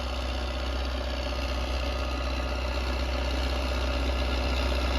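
A tractor engine fitted with a cultivator runs steadily close by, a loud, constant rumbling drone with a faint knock that holds level for the whole stretch, with no talking.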